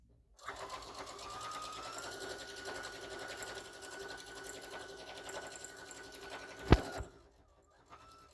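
A sewing machine stitches a zipper onto a duffel bag, running in a steady close whirr for several seconds before a sharp click and stop, followed by quiet.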